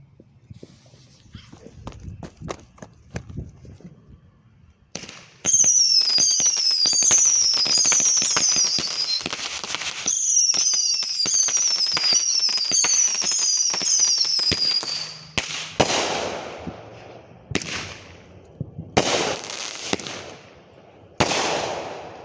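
Fourth of July fireworks burst outdoors in a dense, sustained barrage of loud crackling pops and bangs, followed by a few separate heavy booms after a pause.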